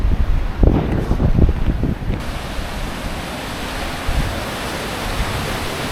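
Steady broadband rushing of the Öxará River at Thingvellir, Iceland, continuous and fairly loud, with a few stronger surges early on and no voices.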